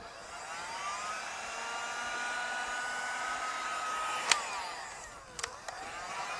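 A heat gun blows a steady whirring roar while shrinking heat shrink tubing over wire connectors during an off-road fog light install, its pitch holding then shifting as it cuts out, followed by a few light clicks.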